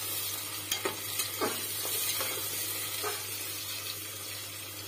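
Spoon stirring chicken nihari with onions in a pot: a few scraping, clinking strokes over a soft steady simmer and a low hum, with no talking.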